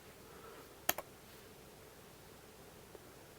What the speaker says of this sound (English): to do this we need to type in startx